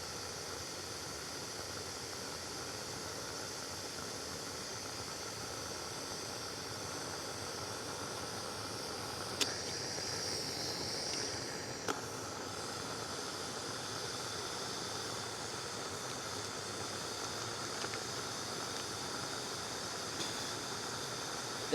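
A camping stove burner boiling water outdoors in the mountains roars with a steady, close, broadband hiss that holds evenly throughout, with a couple of faint clicks.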